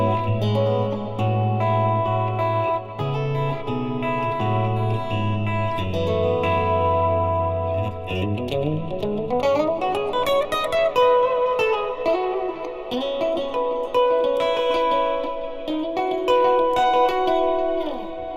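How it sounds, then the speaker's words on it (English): Electric guitar played through a Fractal Axe-Fx 3 amp modeler with various amp and cabinet models, sustained effected chords and melodic runs with chorus, echo and reverb, steady and loud throughout with no talking. "All of the tones today are coming out of my Fractal Axe-Fx 3 with various different amps and cabinets depending on the type of patch that I'm doing."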